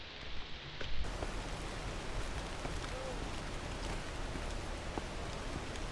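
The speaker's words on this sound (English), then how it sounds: "Only thing is today raining." Rain falling in an outdoor adventure park, a steady close hiss of drops on surfaces with a few louder individual drips, continuous and even throughout.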